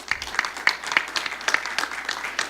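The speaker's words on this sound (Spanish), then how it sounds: "Un aplauso, por favor." An audience applauds a panelist at an academic IT governance forum, a steady patter of many clapping hands at moderate volume without speech.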